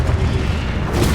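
A Confringo spell blast in the Hogwarts Legacy video game lands as a short, loud, booming burst with a rumbling low body, heard close and on its own.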